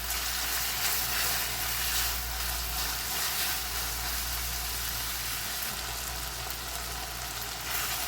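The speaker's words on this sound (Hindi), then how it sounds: "अब इसमें हम नमक और कड़ी पत्ता ऐड करेंगे।" Salt and curry leaves go into a prawn masala of softened onion and tomato, setting off a steady, broad hissing sizzle over a low rumble throughout, with no voices.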